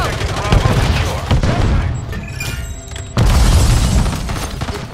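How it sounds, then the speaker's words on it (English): A stun grenade blasts amid heavy gunfire in a Call of Duty: Modern Warfare 3 Domination match, with loud bursting booms, a sharp renewed blast near the end and shouted voices mixed in. "Stun grenade out!"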